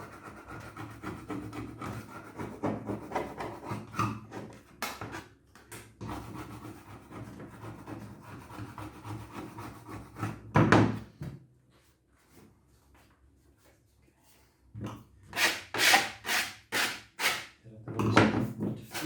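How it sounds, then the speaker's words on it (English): A tool scrapes excess fibreglass resin off a mould in rough, rasping strokes, first a long stretch of scratchy rubbing, then a quiet gap, then a run of short, sharp repeated scrapes up close. "So let's scrape this stuff off here."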